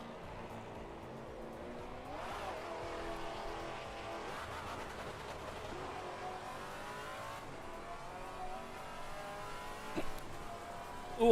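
A Mazda GT race car in Assetto Corsa Competizione revs up and down through the gears with occasional tyre squeal, a steady engine drone at moderate level with rising and falling pitch.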